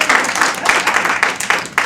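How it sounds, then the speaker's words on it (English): A theater audience at a New Jersey stand-up comedy show claps, a brief dense burst of applause that holds steady close at hand. "A round of applause"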